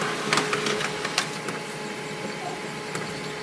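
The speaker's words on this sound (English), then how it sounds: "So here is our welcome sheet." HP LaserJet Pro 3001dw laser printer feeding and printing a sheet, a steady mechanical whir close by, with a few light clicks and taps near the start and no talking.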